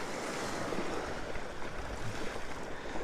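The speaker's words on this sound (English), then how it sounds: "this rock here's got some nice waves crashing over it" Waves breaking over a rock on the shore, a steady broadband wash of surf and spray with continuous churning and no distinct pauses, fairly close and alone without voices.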